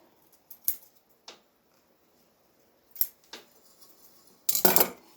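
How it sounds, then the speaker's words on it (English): Scissors snipping loose threads off a sewn fabric face mask: a few quiet, brief snips with pauses between them, then a slightly louder cluster of cuts at the end, close up in a quiet room. "Cut my threads off."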